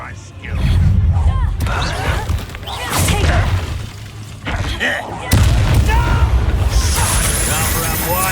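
The Confringo fire spell in the video game Hogwarts Legacy bursts in several loud, booming explosions spaced a few seconds apart, with crackling debris between them and voices talking over the action.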